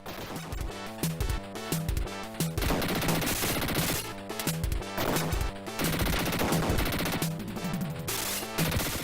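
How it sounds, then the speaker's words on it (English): Gunfire from the 1991 Mega Drive game Dick Tracy rattles in rapid bursts alongside crashing, shattering effects over game music, steady and dense for the whole stretch. "Looks like Dick Tracy's just out there shooting up windows."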